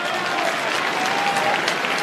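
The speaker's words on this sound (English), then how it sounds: "Big cheer for Easton Hughes and comes off" A large stadium crowd at an AFL match between Fremantle and Geelong cheers and claps loudly and continuously, a dense roar filling the whole moment with faint commentary beneath.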